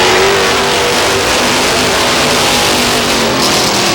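Race cars at Star Speedway in New Hampshire roar off at the green flag, a loud, dense wall of engine noise holding steady throughout, revving close by.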